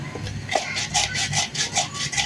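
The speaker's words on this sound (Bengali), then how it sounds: "এখানে নিচ্ছি মরিচ, পেঁয়াজ আর একটা রসুন, আর এটা দিয়ে আমি সুন্দর করে বেটে নিব।" Chili, onion, garlic and cumin are ground into a paste on a stone, a rhythmic series of gritty back-and-forth scraping strokes, close and fairly quiet.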